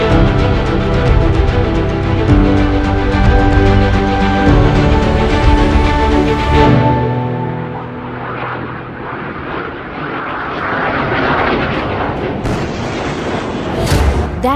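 A supersonic aircraft passes with a sustained, loud jet roar, then a deep rumbling boom follows and rolls on, heard alone at a distance, with no voices.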